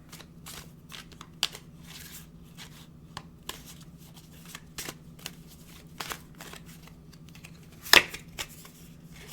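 Tarot cards being shuffled, handled and drawn at close range, soft papery riffles and light taps in a quiet room, with one sharper snap near the end.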